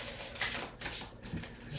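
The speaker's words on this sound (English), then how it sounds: "I guess we're going to go ahead and shuffle them again for us." Tarot cards are shuffled by hand in soft, continuous riffling and sliding bursts, close and fairly quiet, with no voices.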